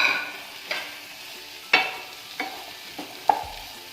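Chopped onions being stirred into a hot pan for chilli chicken gravy, with a steady soft sizzle broken by five or six sharp scraping strokes of the spoon, close and moderately loud, no voices.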